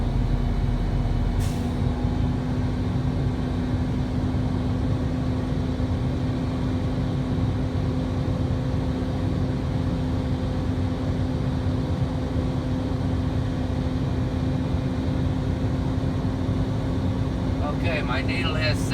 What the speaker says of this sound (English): I'll use my accelerator, bring the RPMs up, help build the air a little faster.